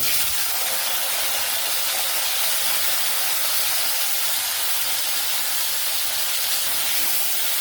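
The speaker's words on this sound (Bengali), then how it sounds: "ওই তেলের মধ্যে আমি কেটে রাখা দুটো টমেটো অ্যাড করে দেব।" Chopped tomatoes hit hot oil in a wok, giving a loud, steady, broadband hiss that fills the whole stretch without pause and with no talk over it.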